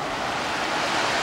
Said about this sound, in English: the surf doesn't look too bad